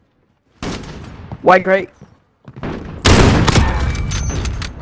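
Call of Duty Modern Warfare gunfire crackles in loud, dense bursts, with a sustained volley filling the second half. Players talk briefly over the shots.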